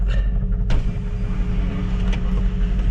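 A Toyota Vios with a faulty transmission makes a steady low mechanical drone from its right side, with a couple of sharp clicks near the start.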